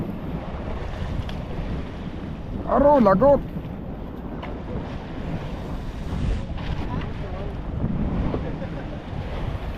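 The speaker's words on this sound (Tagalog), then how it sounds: "Oo nga, norte uli ang hangin." A north wind blows hard over waves at sea aboard a fishing boat, with steady broadband rushing, wind buffeting the microphone and splashing water throughout, while people talk briefly over it.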